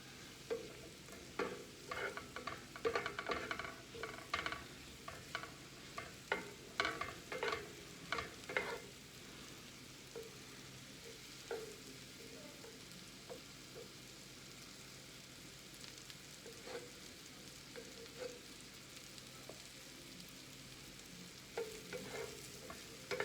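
Pieces being stirred and sautéed in rendered fat in a pan while making beef bourguignon: intermittent scraping stirs over a soft, faint sizzle, busier early on, then quieter with occasional stirring near the end.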